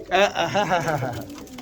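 Pigeon cooing, a soft rolling series of throaty coos close by, with a voice audible alongside.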